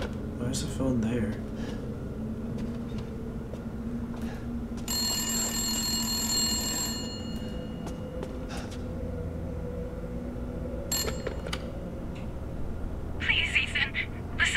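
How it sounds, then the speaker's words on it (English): A telephone rings inside Resident Evil Village, its bell tone sounding in a clear burst and again more briefly later, mixed with game ambience while someone talks over it. "There's a phone there."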